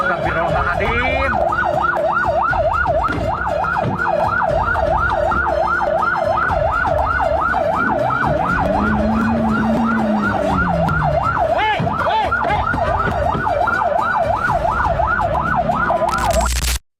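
An ambulance siren wails loudly in a fast, continuous up-and-down cycle for the whole stretch, close by, with road traffic and motorcycle engine noise beneath it.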